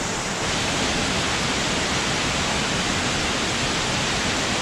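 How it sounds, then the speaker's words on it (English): Water rushes over rocks at Dambri waterfall in Bao Loc, Vietnam, making a dense, steady broadband roar. It is loud and close and stays constant after a quieter first half-second, with no voices. "water's coming up from the rocks"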